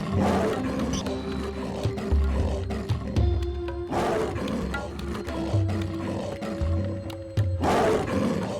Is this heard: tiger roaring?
yes